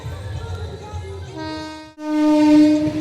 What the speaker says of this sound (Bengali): দেখতে পাচ্ছি যে ট্রেন আসছে